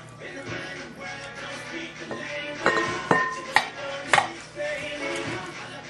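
A spoon scrapes and clinks against a bowl while coleslaw of shredded cabbage and carrots is mixed, with irregular soft knocks and a few sharper clanks close by.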